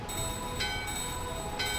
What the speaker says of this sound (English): This must be where I use the bell.